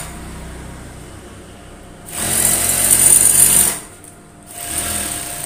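A sewing machine runs stitching the front seam of a fabric overall together, a steady mechanical whir that starts after a quiet hum, runs loudly for about a second and a half, pauses, then resumes briefly.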